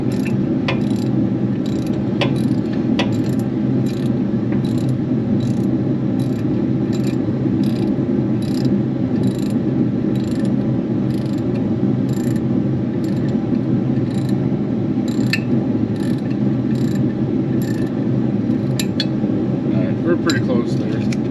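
A hand ratchet tightens a bolt on a Kioti CS252 tractor, giving a series of short, regular clicking bursts over a loud, steady background hum throughout.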